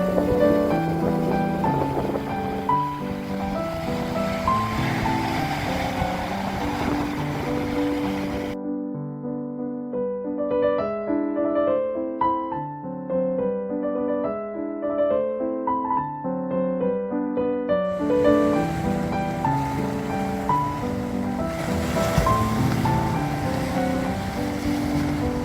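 Sea waves wash steadily onto the beach at Marina di Massa on the Apuan coast of the Mediterranean, a continuous loud roar of surf with wind, broken by a brief quieter stretch in the middle.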